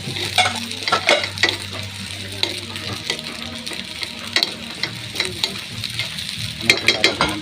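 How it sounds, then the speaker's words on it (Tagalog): Eggs frying in a pan, a steady close sizzle with occasional stirring scrapes and small clinks, no talk. "Piniprito ko yung itlog."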